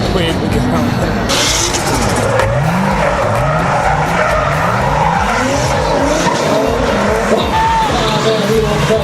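A car drifts sideways with squealing tires and a loud, revving engine that rises and falls in repeated sweeps. The sound is continuous and close, with a voice talking over it throughout.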